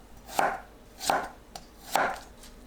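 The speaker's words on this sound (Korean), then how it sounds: "마늘은 편으로 썰어줍니다." A knife slices garlic into thin pieces on a cutting board, giving three clear, evenly spaced chops with a faint tap between them, close and crisp in an otherwise quiet room.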